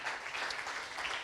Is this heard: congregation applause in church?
yes